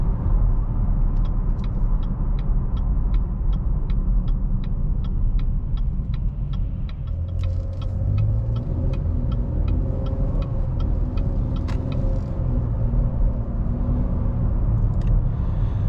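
Cabin of a 2023 Chevy Blazer RS with 21-inch wheels and a nine-speed transmission while driving: a low, steady road and engine rumble with a soft, regular ticking of the turn signal through most of the stretch.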